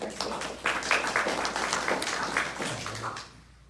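Audience applause at a candidate forum on education, a room of clapping hands that rises, holds steady for a few seconds and then tapers off.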